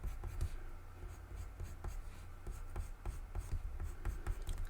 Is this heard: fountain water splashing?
no